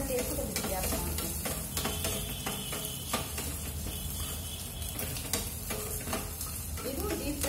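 Coconut pieces frying lightly in ghee for a moong dal payasam, a soft continuous sizzle with frequent scraping and clicking stir strokes, fairly quiet and close, without talking.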